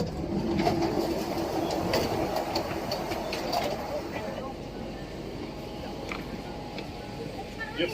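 A Bangkok Purple Line electric train moves at a station with a continuous rumble and rattle of wheels on rails, while background voices and announcements sound throughout.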